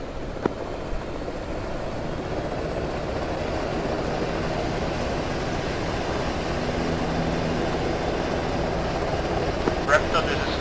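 Helicopter in the ArmA 3 military simulation, a loud continuous rotor and engine drone holding steady throughout, with no one speaking.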